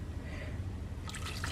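Water is poured into a pot for making dandelion jelly, giving a continuous liquid rush that turns into brighter splashing near the end.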